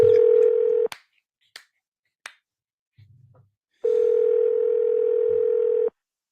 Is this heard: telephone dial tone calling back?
yes